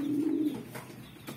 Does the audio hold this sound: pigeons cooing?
yes